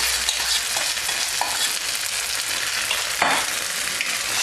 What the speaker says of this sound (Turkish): Kıymamız kavrulduktan sonra az önce haşladığımız ve böreğimize adını veren pirinci ilave ediyoruz.